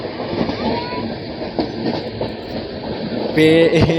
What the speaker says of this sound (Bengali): পরপর একটার পর একটা এক্সপ্রেস তাও দারুণভাবে দেখাতে পারছি